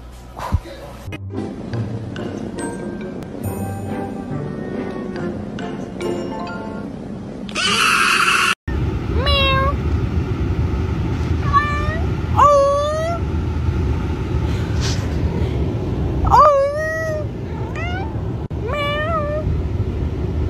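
A small cat meows repeatedly in rising, drawn-out calls, several close and distinct cries spread over the second half, after a stretch of mixed background noise.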